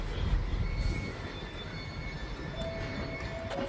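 An Avanti West Coast train runs straight through Crewe station without stopping, giving a steady broad rumble and rush of wheels and air, loudest at first and then holding level, with faint tonal whines above.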